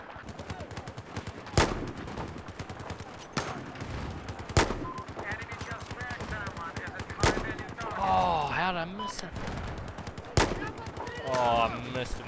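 In a Battlefield 4 match on Operation Locker, a sniper rifle fires several loud, spaced single shots over a busy background of distant gunfire, and a voice speaks briefly between them.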